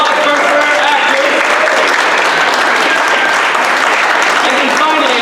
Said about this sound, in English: Another round of applause for our actors.